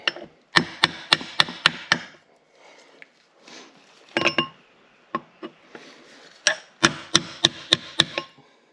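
Chisel hammered against a tab on the gearbox of a Morris Mini 850, heard as sharp metallic taps close by in quick clusters of five or six, with quieter single knocks between the clusters.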